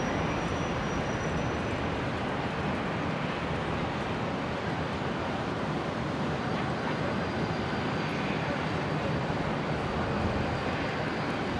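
Qantas Dash 8 turboprop arriving at Brisbane airport from Longreach, a steady broadband engine roar held at an even level throughout, fairly distant and without talk.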